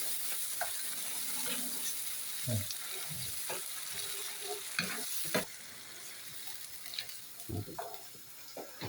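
Tomato frying in a pan for polpette al sugo, a soft steady sizzle with intermittent scraping stirs and clinks of a utensil against the pan, fairly quiet and close.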